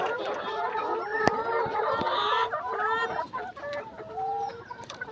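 Several layer hens cluck and chatter close by, with a few sharp clicks and knocks mixed in, and no talking.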